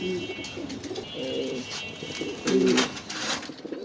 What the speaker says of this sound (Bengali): এখানে আছে একজোড়া স্প্যানিশ গরগরি গরগরি দেখেন ডানেরটা নর বাইরটা কিন্তু মাদি মাদিটা একটু আস্তে ডাকে নরটা ডাকে পুরো ফাটায় ফেলায়